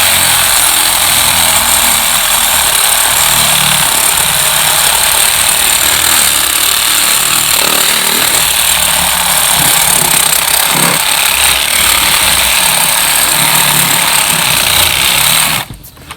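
Reciprocating saw cutting through a deer skull, a loud, continuous buzzing rasp that holds steady for about fifteen seconds before cutting off abruptly.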